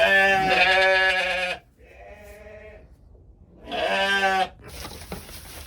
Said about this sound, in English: Now I'm over here trying to see which lambs are looking for their mama.